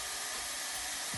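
A Gama Pro hair dryer runs steadily for a brief burst, a close, constant whooshing fan and motor hum with no talk.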